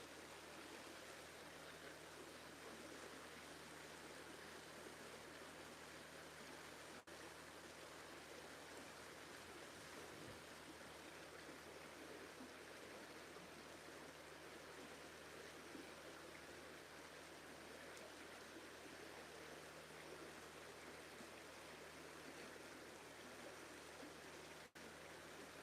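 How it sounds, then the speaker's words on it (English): A river flowing steadily, its continuous broad rushing wash unchanging and fairly quiet throughout, with no voices or other sounds breaking in. "Sitting here, bringing you the river"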